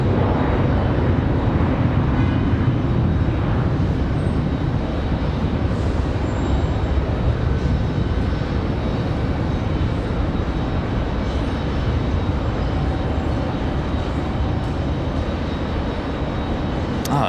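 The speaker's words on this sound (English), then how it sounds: "there goes our A321 off to Charlotte" An Airbus A321 taking off from Raleigh-Durham airport bound for Charlotte, a loud, sustained jet roar that holds steady and eases slightly toward the end, with no talk.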